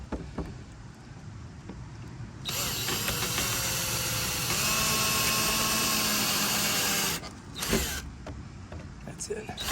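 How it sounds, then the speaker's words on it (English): A power drill runs in a steady whine for about five seconds, driving screws into a wooden fence door, with faint talk and handling noise before and after. "now I'll just probably put the screws in here"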